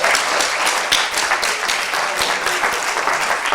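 Loud, lively applause for an entrepreneur at a young-entrepreneurs campus pitch event, many people clapping close and fast with a slightly uneven, surging rhythm.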